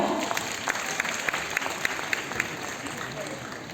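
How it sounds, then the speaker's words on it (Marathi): A theatre crowd applauds at the opening ceremony of the 100th Akhil Bharatiya Marathi Natya Parishad conference, a sustained patter of claps in a hall, with a voice speaking over it. "टाळ्यांचा कडकडा"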